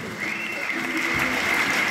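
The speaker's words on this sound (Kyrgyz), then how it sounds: "Кол чаап коебуз." An audience clapping at a Kyrgyz improvised poetry contest in Jalal-Abad, a steady wash of applause with a thin whistle-like tone running through it.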